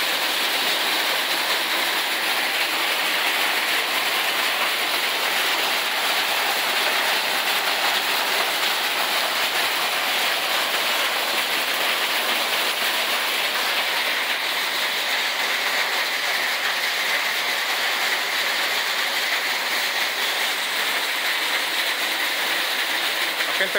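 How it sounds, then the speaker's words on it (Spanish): Dense, steady downpour of rain mixed with hail in Taxco, Guerrero, a loud continuous hiss and patter that stays constant throughout. "Está como una mezcla entre agua y granizo."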